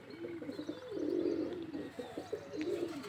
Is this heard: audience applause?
no